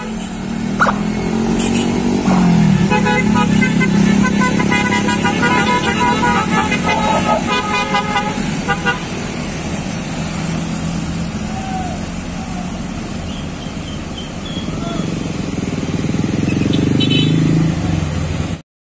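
Tour buses pass along a road in Galendo, Ciamis, with repeated loud horn toots and honking over a steady engine rumble; the traffic noise fades and then swells again as another vehicle approaches.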